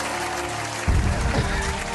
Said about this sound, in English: Applaud them people.